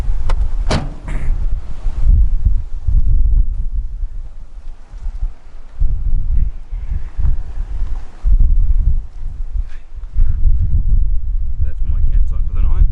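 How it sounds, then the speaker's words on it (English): Strong wind at a campsite near Broken Hill buffets the microphone in heavy, rumbling gusts that rise and fall throughout. "It is extremely windy here."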